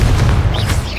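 A Confringo explosive spell goes off in the Hogwarts Legacy video game, a single loud, close, low boom with a short rumbling tail.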